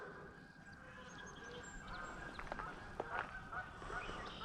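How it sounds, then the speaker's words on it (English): Geese honking in short bursts as they come in to land near a fishing spot, fairly faint and distant over steady outdoor background noise. "There's a geese coming down."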